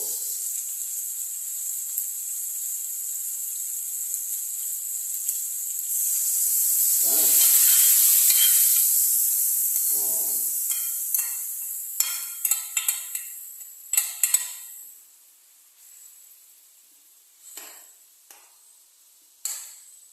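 Mung beans stirred into hot oil and spices in a pan for ginisang monggo, with a steady hiss of sautéing that swells loudly, then fades into scattered scraping and clinks of a utensil against the pot.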